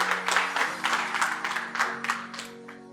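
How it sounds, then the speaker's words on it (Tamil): Teachers at a Teachers' Day celebration clap to welcome a speaker: a modest, uneven patter of hands from a small group, with a sustained tone humming beneath and the clapping tapering off toward the end. "கைத்தட்டி இன்வைட் பண்ணிடலாம்"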